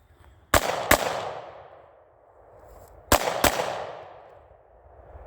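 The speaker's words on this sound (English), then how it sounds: "We're going to do 2 double taps." A Sig P365 pistol fires two quick double taps, four sharp loud reports in pairs with ringing decay between them, outdoors at a range.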